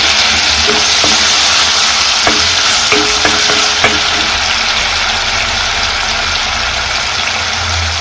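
Ginger garlic paste frying in a pan on low flame for egg rice, a continuous loud sizzle with a few clinks and scrapes of stirring in the middle.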